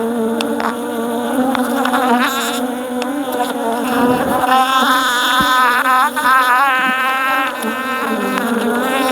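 Honeybees buzz loudly and close by during a hive inspection in Nigeria, a dense, continuous droning swarm whose pitch wavers as individual bees pass near.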